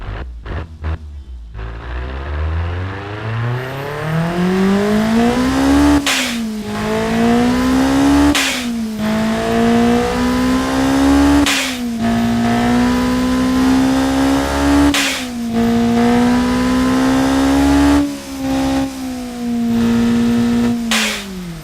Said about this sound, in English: So now let's hear this beast. As you can see, it starts.